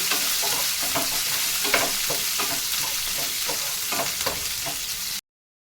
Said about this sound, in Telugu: మళ్ళా ఒక పచ్చిమిర్చి తీసుకున్నానండి. ఇది కూడా వేయించుకున్నాము.